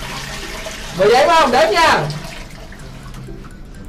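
A toilet flushes nearby with a short, loud rush of water lasting about a second before it fades, while people talk throughout.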